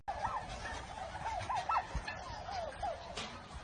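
A flock of turkeys gobbling, several quick warbling gobbles repeating over steady outdoor background noise, moderately close with no talking.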